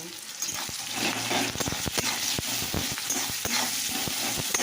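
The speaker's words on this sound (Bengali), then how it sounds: "ভাজা ভাজা হয়ে গেছে পেঁয়াজ" Onions sizzle and crackle in a hot pan, with repeated scraping and stirring clicks over a steady frying hiss.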